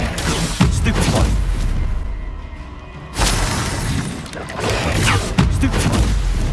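Stupefy spell cast in the video game Hogwarts Legacy, heard as sharp shattering blasts with booming impacts amid dense combat effects, loud and repeated in quick succession.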